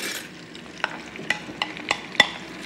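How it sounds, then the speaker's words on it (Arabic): Sliced onions go into hot oil with a soft, continuous sizzle. Several sharp clicks and scrapes of a utensil stirring in the pan punctuate it. "راح ناخذ بصل راح نحطهم فص الزيت بهذا الشكل"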